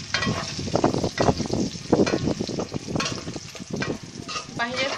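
Onions frying in a pan for khichuri, with a spoon stirring and scraping in uneven bursts over a steady close sizzle throughout.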